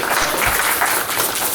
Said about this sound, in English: can you please clap your hands?